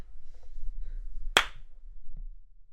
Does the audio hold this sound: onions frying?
no